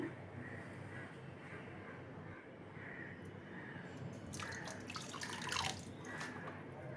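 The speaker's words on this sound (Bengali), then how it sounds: "ঝুড়ির মধ্যে আগে জলটা ঝরিয়ে রাখি" Washed red spinach drains in a basket, a soft continuous patter and trickle of water running through the leaves, steady and close, with a few brighter splashes and drips toward the end.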